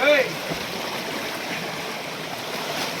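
Irala waterfalls in Chittoor give off a steady, close rushing and splashing of falling water, with a brief voice at the very start.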